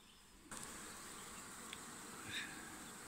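Bees buzz around a blooming pear tree in spring, a faint steady outdoor hum with a brief closer pass near the end and no talking.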